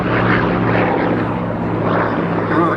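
A Corsair propeller warplane flies past at an airshow, giving a loud, continuous droning engine and propeller roar with a steady buzzing tone throughout.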